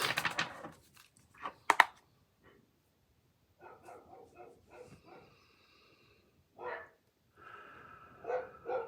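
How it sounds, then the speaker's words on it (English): Several dogs bark indoors in short, scattered bursts of sharp woofs and higher yips, separated by quiet gaps and sounding moderately close. "I had to try to quiet the dogs"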